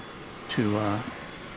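A UPS cargo jet takes off from DFW Airport at night, heard as a distant rising engine roar with a tonal whine that swells briefly and fades.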